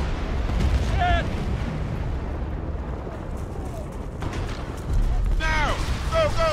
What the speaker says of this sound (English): You hear that? Mortars! Take cover! It's coming from the hill!